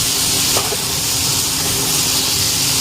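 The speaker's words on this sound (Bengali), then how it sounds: "মশলাটা এখন কষাচ্ছি ঝোলের জন্য জল দেবো" Water hits frying masala with beetroot, carrot and beans in a hot pan, giving a steady, close, loud hiss of sizzling steam that holds evenly throughout without voices.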